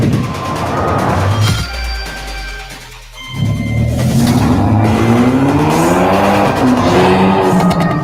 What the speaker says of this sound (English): I wanted you to hear the engine noises.